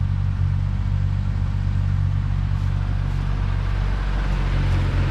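A car engine idles steadily with a low, even rumble throughout, no voices.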